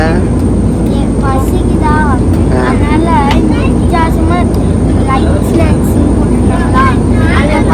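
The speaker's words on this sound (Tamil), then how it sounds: "மேலே பாரு ஃப்ளைட் ஏறுது" Loud, steady low engine roar of a passenger airplane taking off, heard from inside the cabin, with voices talking over it throughout.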